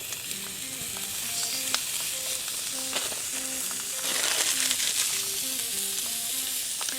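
Two 3-ounce pucks of 80/20 ground beef, smashed on a flat top in peanut oil at about 350 degrees, fry with a continuous crackling sizzle that swells louder midway, while light music plays underneath.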